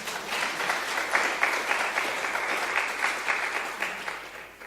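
A church congregation applauds during a Sunday sermon, with steady, even clapping from a roomful of people that holds at a moderate level for several seconds, with no talk over it.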